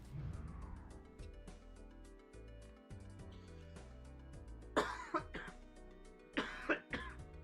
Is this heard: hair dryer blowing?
no